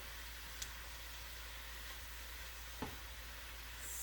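Faint, steady sizzle of sliced peppers and onion sauteing in a skillet, a soft continuous hiss with a couple of small clicks.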